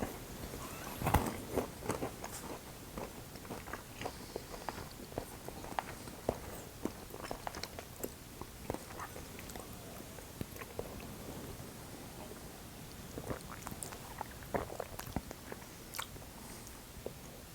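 Pecans crunch and get chewed up close during a bourbon tasting, small irregular bites and crackles over quiet room tone, with faint clicks and no talking.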